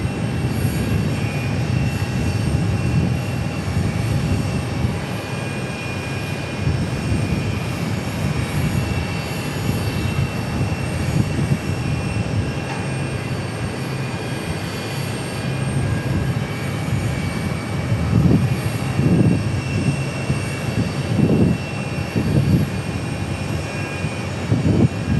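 A Triple Crown livery airliner at Phoenix Sky Harbor gives off a continuous jet roar with a steady whine on top, moderately loud and sustained, with louder low rumbling pulses toward the end.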